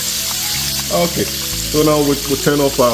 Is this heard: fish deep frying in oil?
yes